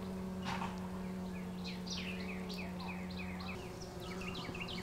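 Bees hum around a beehive as daylight returns after a solar eclipse, a steady low drone close by, while birds chirp and twitter in quick bursts in the background.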